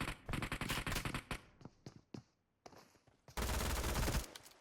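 Gunfire in the PUBG Mobile battle royale game: loud, rapid automatic bursts with short gaps, ending in a long sustained volley.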